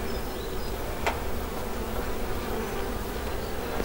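Honey bees buzz around Dadant beehives during a honey harvest in the Landes, a dense steady hum close by with a few individual bees swelling past, continuous and fairly loud.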